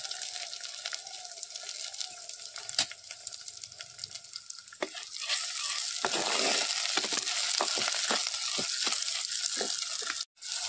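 Tomatoes go into a Konkani-style fish curry cooking in a pan on a wood-fired stove. A faint background gives way to a louder, steady sizzle with scattered stirring clicks.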